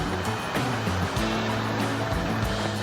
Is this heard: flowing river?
yes